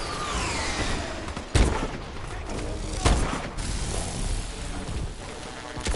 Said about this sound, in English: I really do like this sniper rifle